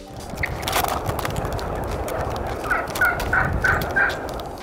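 Several wild turkeys gobble in a rapid series of warbling calls, mid-distance, over a steady background rumble with scattered clicks.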